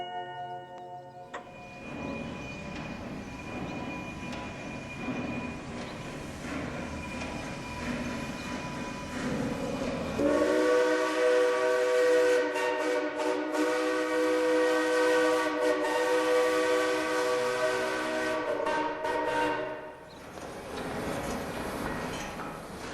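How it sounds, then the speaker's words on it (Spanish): Locomotive sound tied to Mexico City Metro Line 3, a loud, sustained rumbling train noise with a strong tonal horn-like drone rising in the middle and continuing nearly to the end. "nadie logra explicar el sonido de la locomotora"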